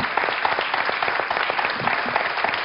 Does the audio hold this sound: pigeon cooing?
no